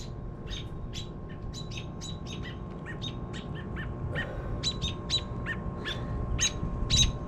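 Baby bird and parent birds chirp outdoors in a rapid, irregular string of sharp tweets and calls over a low background hum, growing a bit busier and louder toward the end.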